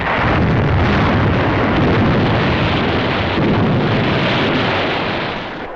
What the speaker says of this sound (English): Batteries and the heavy guns of the French battleship Jean Bart and several cruisers, destroyers, and gunboats put out a devastating fire.